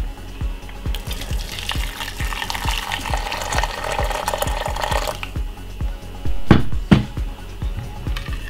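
Hot water is poured into a cup holding half a teaspoon of honey, a steady liquid rush lasting a few seconds over a faint, regular ticking, followed by a couple of louder clinks or knocks near the end.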